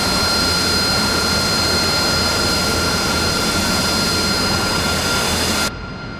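An AV-8B Harrier jet engine in the DCS flight simulator sits at a steady, loud roar with a high whine while the jet taxis, then drops sharply in level just before the end.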